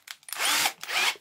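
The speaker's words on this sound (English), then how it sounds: "That's the 2 holes drilled into it." A power drill boring holes for a U-Tube installation: two short whining bursts of the drill motor biting into material, separated by a brief pause, close and loud.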